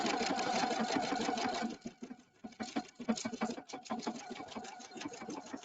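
An Epic2 sewing machine stitching a sequin onto fabric: a steady, fast mechanical whirr and needle clatter, close up, briefly slowing and stuttering midway before running on evenly.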